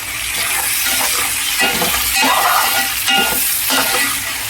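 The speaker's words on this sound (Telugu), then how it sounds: "దొండకాయలు కట్ చేసిన దొండకాయలు వేసాను. అవి ఫ్రై అవుతున్నాయి." Cut ivy gourd pieces frying in peanut oil, giving a steady, close sizzle with repeated stirring scrapes and clatters throughout, no voices.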